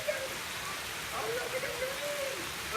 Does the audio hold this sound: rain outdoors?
yes